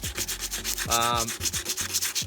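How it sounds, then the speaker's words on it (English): Coarse sanding strokes with 60 grit sandpaper over paint in a car engine bay rasp back and forth in a steady rhythm, close and fairly loud, with a brief tonal squeal partway through. "I'm re-sanding everything with 60 grit sandpaper."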